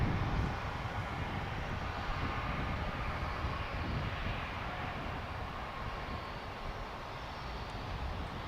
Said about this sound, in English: plane that dates back to the 1980s. But still flying around.